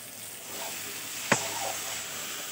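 Spices with turmeric and Kashmiri chilli powder are sautéed in a pan, giving a soft, low sizzle with one sharp clink of a utensil partway through.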